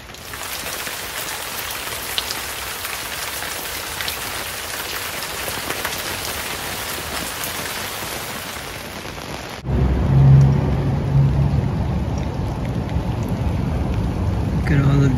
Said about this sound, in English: peek outside because it is raining out here.